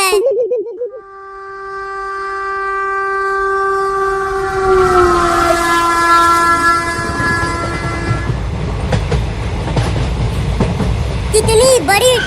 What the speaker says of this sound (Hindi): वो देखो, आ गई ट्रेन।